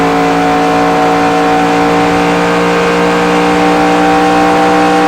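Simulated truck engine from NASCAR Racing 2003 holds a steady drone in third gear, a loud continuous tonal hum with stacked harmonics and no talk.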